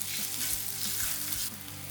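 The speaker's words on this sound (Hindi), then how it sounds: "हम पैन में डालेंगे ऑलिव ऑयल और इसमें डालेंगे अनियन।" Onions sizzle and fry steadily in olive oil in a pan on a medium flame, a continuous close, bright hiss with faint stirring or tossing sounds.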